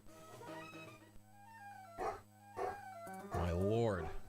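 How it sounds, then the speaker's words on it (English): Several dogs bark and whimper in short bursts, with a sharp yelp near the end, sounding somewhat distant at the far side of a building, mixed with other voices. "These dogs are going insane."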